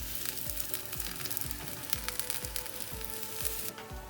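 Vegetables frying in a pan, including eggplant with a drop of oil, a steady close sizzle with soft rhythmic stirring scrapes, no voices.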